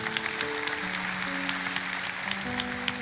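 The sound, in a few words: congregation applause for Jesus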